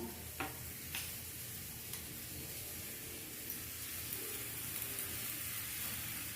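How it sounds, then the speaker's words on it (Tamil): Mango pickle mixture with salt being stirred, Tirunelveli style, a soft continuous sizzling scrape with a few faint ticks and light knocks of the spoon, quiet and close, with no talk. "அப்படியே போட்டு கிண்டிடணும்"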